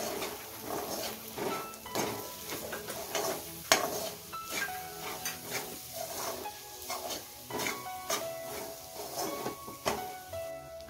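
A spoon stirs garam masala and kitchen king masala for Bhogichi bhaji, a Makar Sankranti mixed-vegetable dish, in a pan, with repeated quiet scrapes and clinks over a gentle sizzle.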